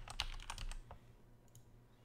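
A handful of quick keystrokes on a computer keyboard while entering a password, soft close clicks in a brief burst, then quiet room tone.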